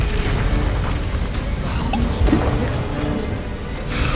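A Confringo spell blast in the Hogwarts Legacy video game, a loud low booming roar that fills the whole stretch, with a sharper burst near the middle.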